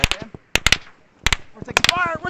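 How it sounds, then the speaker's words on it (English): Bursts of gunfire crack in quick clusters of close, sharp reports, mixed with shouting voices in a tense combat setting. "We're taking fire! We're taking fire!"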